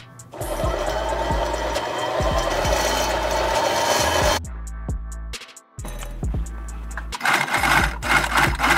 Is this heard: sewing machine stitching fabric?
yes